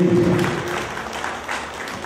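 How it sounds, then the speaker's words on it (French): Audience at a cultural evening applauding a guest, a short burst of scattered clapping fading under a voice speaking over it. "Il faut l'applaudir."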